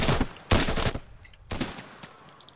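Game gunfire from a weak pea-shooter rifle in Insurgency: two sharp bursts of shots around a second apart, each trailing off, fairly close, with no talking over them.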